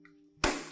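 A gas stove is lit: a faint hum gives way to a sudden ignition pop and a close, steady rush of flame, with no speech.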